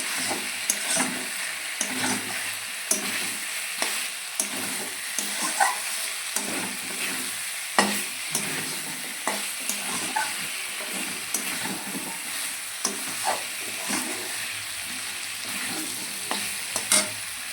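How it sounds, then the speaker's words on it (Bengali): Chicken frying in a pan is stirred with a steady sizzle and repeated scraping strokes of a utensil, sounding close and continuous, with no talking. "আর একটু নাড়াচাড়া করছি"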